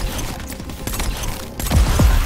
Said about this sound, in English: That's explosions, isn't it?